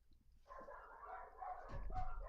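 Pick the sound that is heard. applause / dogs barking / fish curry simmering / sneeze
dogs barking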